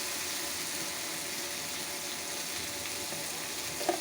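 Kayta and shrimp frying in a pan, giving a steady, even sizzle that holds constant throughout at moderate loudness, with one faint clink near the end.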